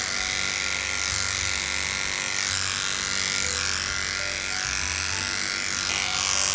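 Electric clippers trimming a dog's fur while blending her body into her legs: a continuous close buzzing hum with slight shifts in tone as the blade moves through the coat.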